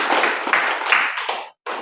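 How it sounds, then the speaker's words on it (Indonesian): Clapping for the presenters at a classroom session on curriculum design, a few hands patting unevenly and close by for over a second, then a short gap before it starts again. No voices. "mari kita tepuk tangan"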